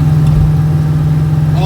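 A steady, loud engine hum from a 40-year-old car on the road, droning continuously at close range throughout with no gaps.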